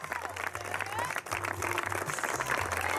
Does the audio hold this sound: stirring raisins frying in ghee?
no